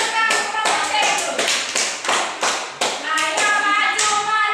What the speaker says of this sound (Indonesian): Ayo, kita berikan tepuk tangan kelompok C itu.